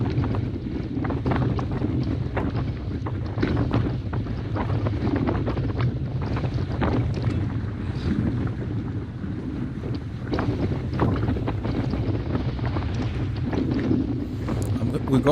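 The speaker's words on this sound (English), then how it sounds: "We're going into the wind here." Steady, loud wind buffeting on an outdoor bike ride heading into a headwind, a constant low roar rushing over the mic throughout, with occasional gusty swells.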